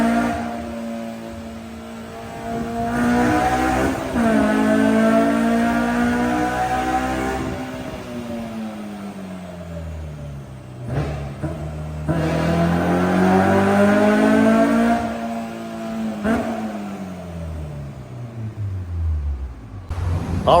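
A Honda S2000 engine running on a dyno climbs through several long revving pulls, its tone sweeping up and dropping back between runs, loud and close with no talking.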